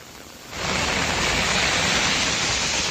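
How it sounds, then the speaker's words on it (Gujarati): Heavy downpour in Deesa, a dense roaring hiss of rain that swells in after a quieter start and then holds steady and loud, with no voices. "અત્યારે જે ધોધમાર વરસાદ જે છે તે વરસી રહ્યો છે"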